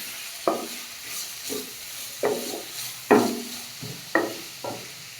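Grated beetroot and garlic being sautéed in a pan, stirred in short scraping strokes over a low steady sizzle, roughly six distinct spatula pushes spaced about a second apart, close and clear with no talking.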